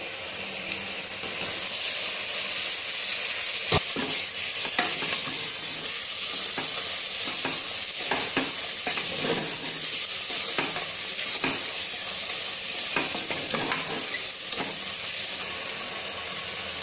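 Tomato and spice powder sauté in a pan for soya chunks biryani, a steady sizzle running throughout with repeated scraping stirs of a spoon against the pan.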